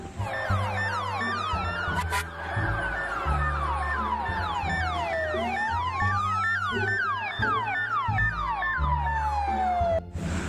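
A toy fire truck siren wails continuously in rising and falling sweeps, loud and close, over a steady pulsing electronic beat with no talking.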